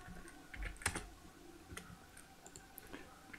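Computer keyboard typing while a number is entered in 3D modeling software: a few quiet, scattered key clicks close by, with no talking.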